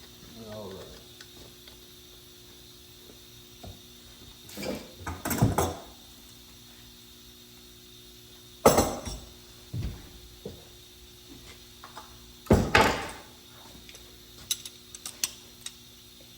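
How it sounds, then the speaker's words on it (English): Old school speed wrench turning on an automatic transmission pump of a 1977 Chevy K10, a few separate bursts of metallic ratcheting and clanking in a quiet shop, with faint talk. "It's an old school speed wrench,"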